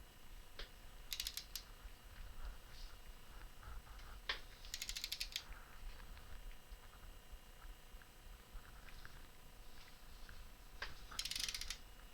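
A torque wrench tightening bolts on a Gen 3 KLR650 motorcycle gives faint ratcheting clicks and a few sharper clicks spread over the clip, against a low background hum.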